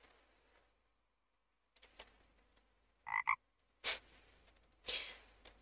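A king frog pet in a video game gives short, close croaks: a quick double croak, then two louder, buzzier ones spaced about a second apart against near silence.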